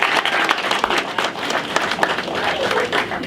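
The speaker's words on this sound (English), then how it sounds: "Let's give them a round of applause." Dense audience applause at a networking mixer fills the whole stretch, many hands clapping at once, with some voices mixed in beneath it.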